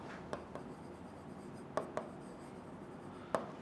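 A pen writing during an English lesson: faint, steady scratching on paper broken by a few sharp taps of the tip, close and quiet, with no talking.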